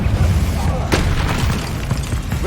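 A fiery Confringo spell blast in the Hogwarts Legacy video game, a single loud booming burst about a second in, rising out of a dense rumbling battle backdrop.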